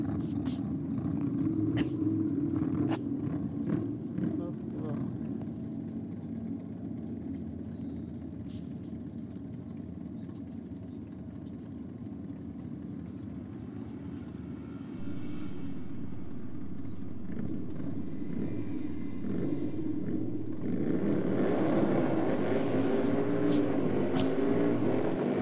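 Big Harley drag racing motorcycle at a drag strip, a steady droning engine heard from a distance that swells louder near the end, with no talk over it.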